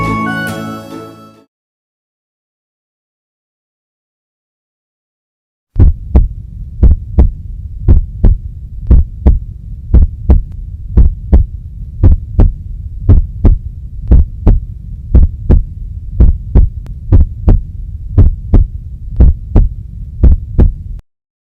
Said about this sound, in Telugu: నీ హార్ట్ బీట్ ఇంత హెవీగా కొట్టుకుంటుంది?